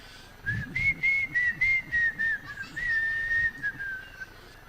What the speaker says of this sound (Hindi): मैं सीटी क्यों बजा रहा हूं?